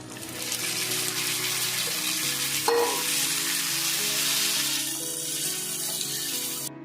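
Figs with whole garlic cloves being fried in oil and spice paste for a fig and prawn dish, sizzling loudly and steadily close up, with scraping stirs and a brief clatter midway.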